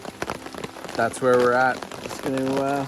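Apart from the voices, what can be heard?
rain falling at a campsite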